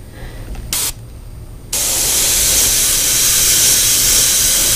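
Spray paint hisses from a can over a stencil laid flat, first a short burst, then a loud, steady spray held close for several seconds.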